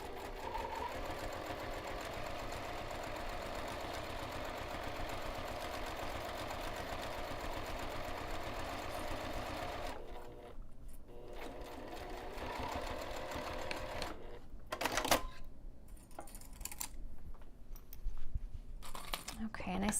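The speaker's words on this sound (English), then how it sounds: "I'm sewing on top of the clear vinyl." Sewing machine with a Teflon foot stitching across clear vinyl laid over fabric for a zipper pocket, a steady whirring run for about ten seconds, then short stop-start bursts of stitching with pauses; voices murmur faintly in places.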